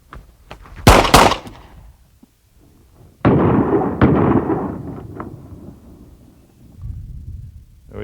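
A handgun fires at a practice range: two sharp, booming shots in quick succession, then two more a few seconds apart, each with a long echoing rumble decaying afterward.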